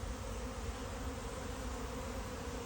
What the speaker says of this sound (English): I'll come back if they start to swarm. I think they're about to swarm.